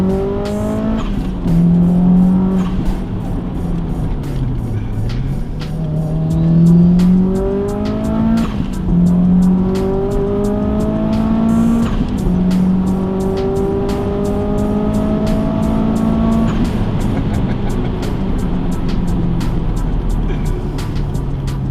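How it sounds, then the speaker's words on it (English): A Subaru Impreza blobeye engine revs and climbs through repeated part-throttle accelerations, with a rising whooshing intake tone and steady road rumble underneath, loud and continuous. "That noise when you're just like half on the accelerator, it sounds like it's sucking in air."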